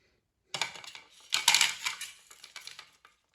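Fried raw-potato kebabs clatter onto a plate in a few close, bright metallic clinks and scrapes, bunched in short bursts over quiet background.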